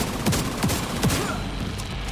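Shotgun blasts from Tom Clancy's The Division 2, three loud booming shots spaced at a steady rhythm over ongoing background gunfire in an indoor fight.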